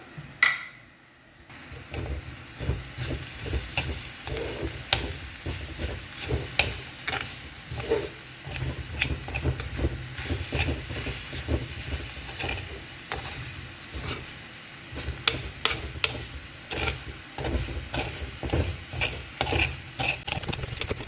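Carrot thoran with ground coconut is stirred in a pan over sizzling heat, a spatula scraping in frequent short strokes over a steady frying hiss, close and continuous.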